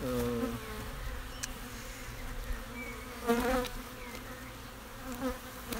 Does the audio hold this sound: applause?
no